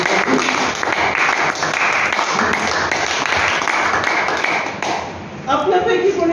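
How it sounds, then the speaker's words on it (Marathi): An audience at a talk claps steadily together, a dense sustained applause that holds for several seconds and then thins out toward the end. "तरी टाळ्या."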